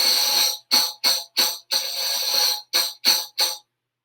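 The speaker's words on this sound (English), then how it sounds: "Theoretically, if you can do a finger roll on a tambourine," A tambourine roll made by skipping a thumb or finger across the head gives a bright, close jingle, first as a sustained shimmer and then as a quick run of short separate shakes before stopping.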